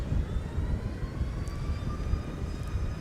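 A Boeing 717-200 jet on a taxiway at MSP Airport gives off a faint, steady engine rumble and whine from a distance, with no voices.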